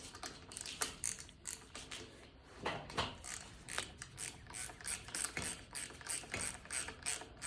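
Rapid clicking of a ratchet wrench snugging down the valve stem nut on a motocross dirt bike's tube tire, a close, busy run of metallic ticks in short bursts with no speech.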